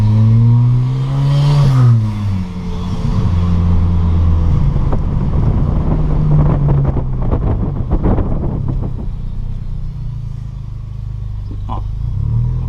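At about 40 km/h in sport mode, a car engine revs and drops sharply at a gear shift, then the exhaust pops and crackles in a quick, irregular cluster over a low engine drone and wind rush.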